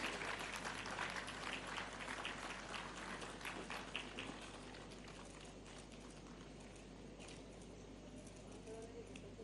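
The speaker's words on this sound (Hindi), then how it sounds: "तालियों के साथ हम स्वागत करें" Applause from an audience at a formal government ceremony welcoming a booklet release for a 100-day Nikshay campaign, with the Governor and Chief Minister present: a dense, steady wash of clapping throughout that eases slightly toward the end.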